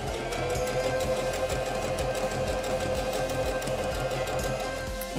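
A SINGER Denim sewing machine stitches a narrow zigzag, its needle mechanism whirring in a steady, fast mechanical rhythm at close range, with no talking.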